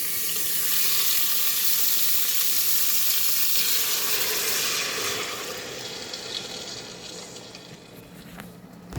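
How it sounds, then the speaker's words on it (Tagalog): Water pours into a pot for salmon soup with a loud rushing, hissing splash that fades after a few seconds into a quieter bubbling simmer, ending with a faint clatter. "Lagyan natin tubig yan."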